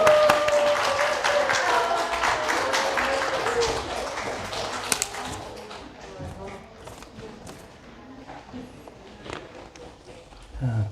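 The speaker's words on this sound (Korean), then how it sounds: "다시 큰 박수로 또 격려해 주시기 바랍니다" Applause rises from a large church congregation at an Easter Sunday service, dense clapping that gradually thins out and fades, with a few scattered claps and thumps near the end.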